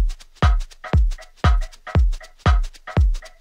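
A chill house drum pattern, with a deep kick landing roughly every half second and snappy percussive hits between them, steady and upfront with no voices.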